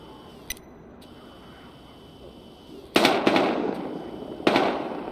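Gunfire in a realistic video game school shootout: a sharp crack, then a loud burst of several rapid shots, and another crack near the end, all over a quiet background.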